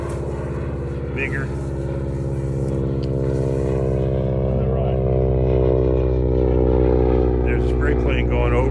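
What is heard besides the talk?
crop-spraying airplane flying over a farm field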